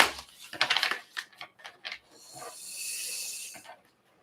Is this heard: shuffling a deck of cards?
yes